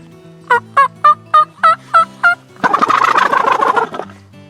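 A wild turkey gobbles during a spring hunt in New York, with a rapid series of seven sharp notes followed by a dense, rolling gobble, loud and fairly close, with no talking.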